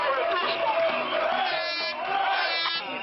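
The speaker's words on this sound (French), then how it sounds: "La foule, comme sur une ligne d'arrivée." A large crowd cheers and shouts loudly, as at a finish line, during a protest march of unemployed people near Compiègne, a steady roar of many voices with whoops rising above it.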